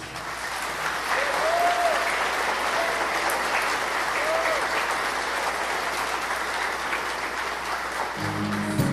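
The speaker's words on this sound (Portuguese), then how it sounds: "Receber essa calorosa salva de palmas deles." Warm, sustained applause from wedding guests fills the space at a steady, dense clatter of many hands, holding at an even level for several seconds before cutting off near the end.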